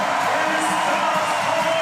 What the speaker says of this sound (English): The crowd are going absolutely wild here